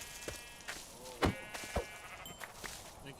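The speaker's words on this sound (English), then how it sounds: "I do know that I see another sheep on the map" Sheep in the Minecraft video game bleat several times in short, separate calls over a quiet background.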